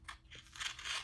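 Scissors trimming a vinyl decal sheet, a few quick faint snips and crisp crunching cuts in close succession, brief and quiet with no talking.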